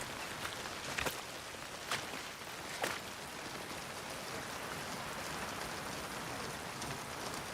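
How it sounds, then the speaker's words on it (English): Steady rain pours in the video game Ghost of Yotei, a dense, even hiss of falling water with a few louder drop taps early on and no voices. "Listen to that rain."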